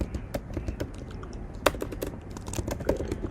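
Someone types code on a computer keyboard: a quick, irregular run of close, crisp key clicks with a few sharper taps, fairly quiet and with no talking.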